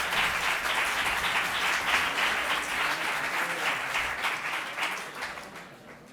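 A large audience applauds in a hall at the final of a university debate tournament, honouring a provincial deputy. The clapping is dense and steady and thins out near the end.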